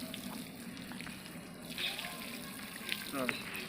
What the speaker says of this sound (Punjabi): ਇਸ ਤਰ੍ਹਾਂ ਪਾਣੀ ਦੇਣਾ ਹੈਗਾ ਸਿੱਟਾ ਪਾਰ ਕੇ ਤਾਂ ਕਿ ਇਹ ਗਿੱਲੀਆਂ ਹੋ ਜਾਣ ਸਾਰੀਆਂ ਕਲਮਾਂ